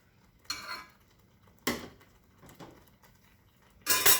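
A frying pan is handled and set up for cooking scrambled egg, giving a few separate metallic clanks and scrapes spaced about a second apart, close and moderately loud against a quiet background.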